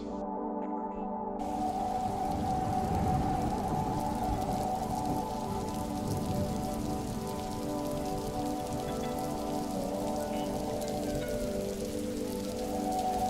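Light drizzling rain at night near a river ghat, a steady soft patter of drops on surfaces, continuous and even throughout, with a low droning hum underneath and no talking.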